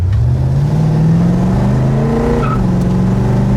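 A 1972 Chevy Nova engine revs up loudly and close by, its pitch climbing and then holding at a high, steady roar with no voices.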